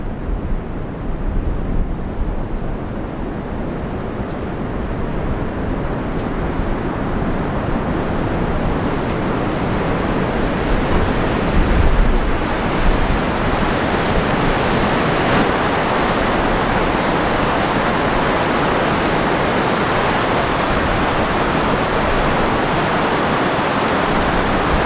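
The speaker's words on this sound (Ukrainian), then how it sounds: "Водоспад Детіфос має ширину 100 метрів, висоту 44 метри." Dettifoss waterfall, 100 metres wide and 44 metres high, roars as a loud, constant broadband rush of water that holds steady throughout with no pause.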